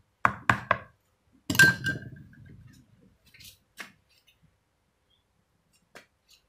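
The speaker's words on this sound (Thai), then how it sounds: "แล้วเราก็ปิดฝาไว้นะคะ" A lid is set and screwed onto a jar of pickled olives being candied in sugar, giving a few sharp knocks and clicks, then a short scraping rattle and scattered faint taps in a quiet kitchen.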